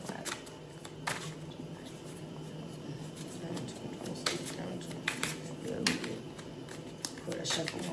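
Tarot cards being shuffled, heard as repeated short papery riffling bursts spread across the stretch, sitting under a steady murmur of talk.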